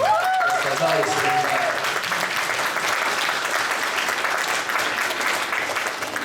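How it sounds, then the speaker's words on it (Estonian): Large audience breaks into sustained applause for music, singing and voice teachers at a concert, loud dense clapping throughout, with a voice and tonal sound briefly audible at the start. "teeme ühe suure aplausi"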